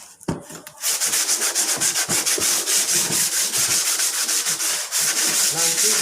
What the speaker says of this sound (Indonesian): Ini amplas ya. Kita mulai menggosok pemirsa. Oke, kita mengamplas ya pemirsa.